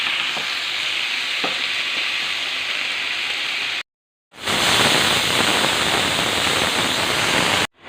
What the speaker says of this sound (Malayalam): പിന്നെ എന്താ പയർ ഇട്ട് കൊടുക്കുക ഇനി ഒന്ന് നല്ലപോലെ ഇളക്കി കൊടുക്കാം എന്നിട്ട് അടച്ചു വെക്കാം